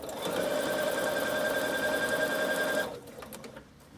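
A Bernina sewing machine hums along at a fast, even stitching pace for about three seconds, then stops, leaving faint quiet behind.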